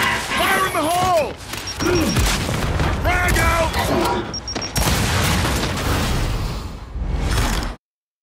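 Thrown grenade going off in the Gears 5 video game among heavy combat noise, with loud booming blasts and whooshes, repeated bursts through the clip, and game voices shouting over them.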